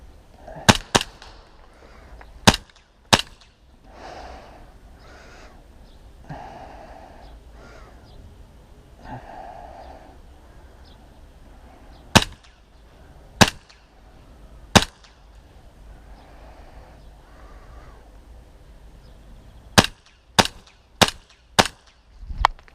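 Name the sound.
gunshots exchanged in a video game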